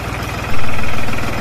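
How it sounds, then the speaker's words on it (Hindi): A New Holland 5620 tractor with a full turbo engine runs close by, a loud, steady low rumble with a rhythmic throb that swells slightly partway through and holds on, with no talk over it. "फुल टर्बो इंजन है, फुल टर्बो सप्लाई पंप वाला मैं सिस्टम बड़ा वाइया लगता यार हॉलैंड का।"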